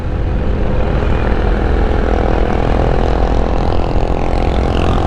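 A Harley-Davidson Sportster S motorcycle engine drones steadily under way, loud and continuous, with heavy rushing wind over the low rumble and no voices.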